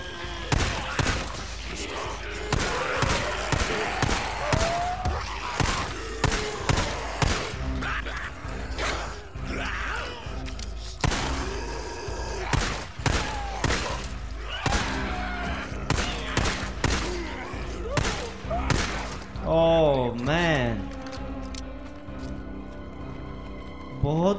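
Rapid bursts of gunfire in the game Days Gone crack repeatedly, loud and close, with brief pauses between volleys and a few electronic tones near the end.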